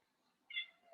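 A single short, faint meow from a cat, brief and close.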